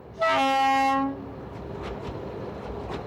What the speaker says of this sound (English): We're to cross the Andes on a rail bus built for the branch lines of Munich 30 years ago.